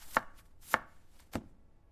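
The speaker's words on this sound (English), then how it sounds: "I am chopping cabbage." A knife chops cabbage on a board with three crisp, evenly spaced thuds, close and clear, with quiet between strikes.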